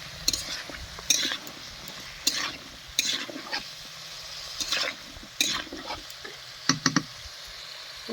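Mixed winter vegetables with chilli powder and cumin masala are stirred in a pan, with intermittent scraping and clacking strokes of the spatula over a soft background sizzle, close by.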